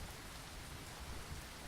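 Heavy rain pouring down steadily at night, a dense continuous hiss with low rumbling underneath, even and unbroken throughout with no voices.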